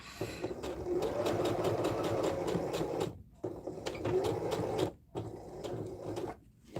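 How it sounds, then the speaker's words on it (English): A sewing machine whirs in rapid stitching runs, stopping briefly three times before starting again, close and fairly quiet. "The Adventures of Sewing on an Unfamiliar Sewing Machine."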